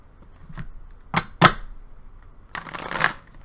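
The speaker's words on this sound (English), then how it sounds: "One more shuffle." Tarot card shuffling in three bursts: two quick riffles close together, then a longer, denser shuffle after a brief pause, close and fairly loud.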